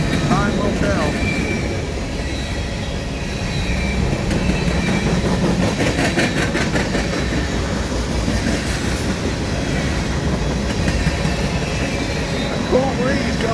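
A CSX manifest freight train rolls past on a foggy morning, a loud steady rumble with rhythmic wheel clatter and rail noise that holds for the whole stretch, with a breeze in the background.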